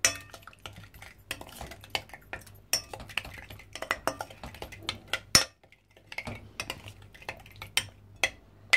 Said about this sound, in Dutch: Nu gaan we goed roeren.